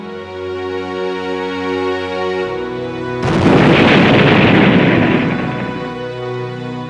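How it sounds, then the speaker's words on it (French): A bomb blast in a WWII documentary sound effect, a loud booming burst that breaks in partway through over a steady music bed and rumbles on before fading. "Lorsque la bombe a explosé à 12h42"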